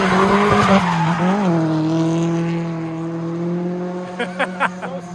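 Sustained loud tire squeal from a car drifting in Japan, a long, steady screech with shifting pitch lasting several seconds, close by, ending in a few sharp chirps as the slide breaks off.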